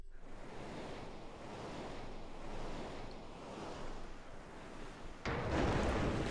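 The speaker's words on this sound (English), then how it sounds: "It's an actual ocean" Ocean waves wash and surge steadily in a Mario & Luigi video game scene, a broad rushing surf that swells louder near the end, with no talk.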